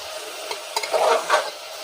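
Onion and chicken frying in a pan, a steady close sizzle with a few stirring scrapes and clinks over it.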